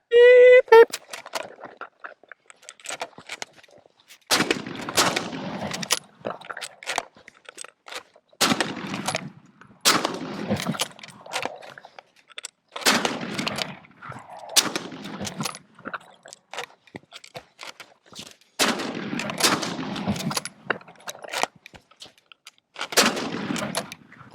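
Seven sharp rifle shots ring out from a Mauser Model 1871 fired in quick succession, each loud crack separated by pauses for reloading the single-shot action, with faint metallic handling between them.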